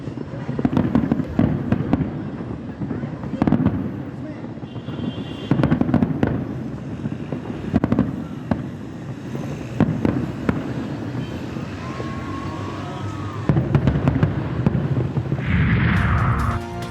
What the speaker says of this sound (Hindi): F9 पार्क में शानदार आतिशबाजी का एहतमाम किया गया